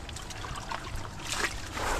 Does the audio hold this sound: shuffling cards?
no